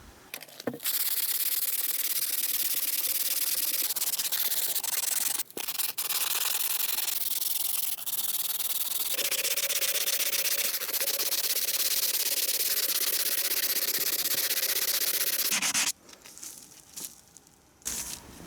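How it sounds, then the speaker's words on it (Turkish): Steady, continuous rasping of 120-grit sandpaper scrubbing a brake caliper, close and loud, with brief pauses and a few clicks near the end. "Şimdi işleme zımparayla devam ediyoruz."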